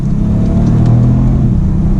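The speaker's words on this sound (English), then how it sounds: "So as we downshift now, you can hear the engine more so than the exhaust." A Genesis G80 3.3T Sport sedan downshifts, its twin-turbo engine producing a steady, loud mid-range hum with a low rumble as revs briefly climb and settle inside the cabin.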